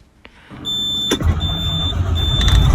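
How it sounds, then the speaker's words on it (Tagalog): A 2005 Western Star truck with a Detroit diesel engine cranks and starts, a short whine giving way to a loud, steady rumbling idle that builds slightly over the next couple of seconds. "nag-start na yung sasakyan"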